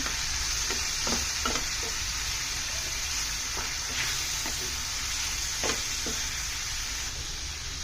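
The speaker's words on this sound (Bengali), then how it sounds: "1 চামচের মতো সয়া সস, দিয়ে দিব একটু গুঁড়া মরিচের গুঁড়ো। এখন নেড়ে দিচ্ছি।" Pizza bun filling with soy sauce and chili powder stirred in a hot pan, a steady sizzle with a few short scraping strokes of the spoon scattered throughout.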